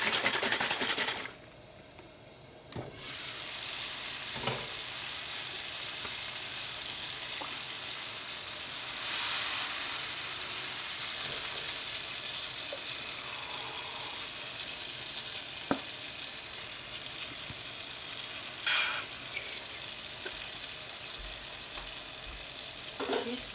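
Tomato and egg stir-frying in a pan, a continuous bright sizzle with occasional scrapes and clicks of stirring, close and alone, with a brief quieter dip near the start.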